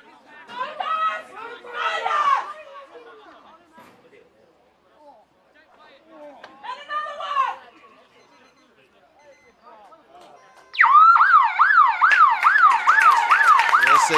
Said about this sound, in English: There is the full-time siren.